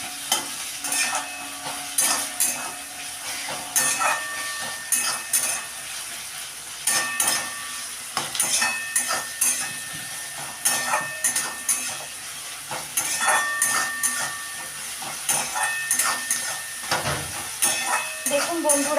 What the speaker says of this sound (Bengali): দিয়ে মশলাটাকে আমি ভালো করে কষিয়ে নিচ্ছি।